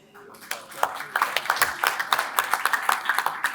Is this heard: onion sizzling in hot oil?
no